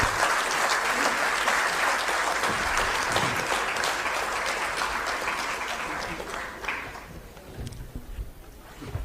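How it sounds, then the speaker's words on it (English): Audience applause at a book launch honouring Mallikarjun Kharge, as a shawl is presented on stage: steady, dense clapping from a large crowd that carries on for most of the stretch, then thins and fades near the end. "Can we have a round of applause,"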